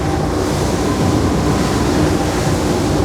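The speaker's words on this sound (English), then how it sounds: "as we're taking these waves right on our starboard side" A boat slamming through waves on its starboard side at about 25 to 30 knots: a steady, loud rush of water and engine noise with wind buffeting, continuous throughout with no talk.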